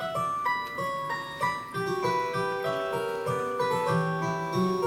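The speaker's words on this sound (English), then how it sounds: "this is a harpsichord sonata from 1750 that uses that very chord progression" A harpsichord plays a bright, plucked progression of chords and running notes from a 1750 sonata, steady and moderately loud, with no voices.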